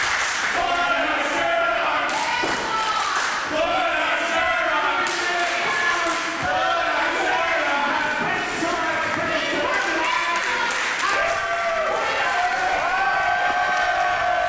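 Loud, continuous crowd roar at a live wrestling event in Kelowna, with cheering, shouting and scattered clapping rising and falling throughout, dense and close with no clear pauses.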